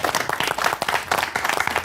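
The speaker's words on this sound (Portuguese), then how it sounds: "Isto agora merecia umas palmas." A studio audience on a talk show claps warmly, a dense wash of many hands with quick rapid slaps, loud and continuous from start to finish.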